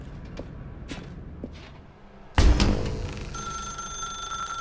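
A telephone rings in a video game, a bright repeated electronic ring starting abruptly after a few soft footstep-like knocks in a quiet dark room, loud and alone.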